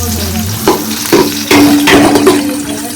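Curry leaves and onions hit a hot pan with a loud, steady sizzle and crackle, broken by a few scraping stirs of a spoon against the pan.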